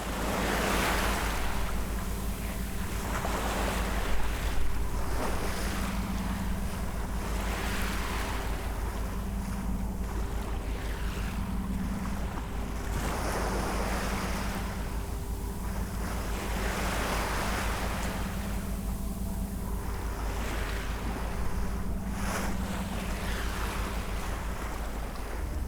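A ship cruising under way across the Indian Ocean, heading east toward the Banda islands of the Moluccas, with a steady rush of waves and wind noise buffeting the microphone, continuous and fairly loud throughout with no voices.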